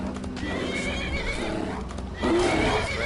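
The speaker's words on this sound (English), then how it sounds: "Her horse seems to be in distress." A distressed horse in Skyrim on PlayStation 4 lets out a loud whinny over clip-clopping hooves and steady game ambience, the neigh rising sharply near the end with no talk.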